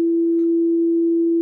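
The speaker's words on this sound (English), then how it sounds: "if we just play some tones through" Test tone played through a Pioneer S-SLW500 subwoofer: a single steady, unwavering hum holding one pitch loudly for the whole stretch, with no voices.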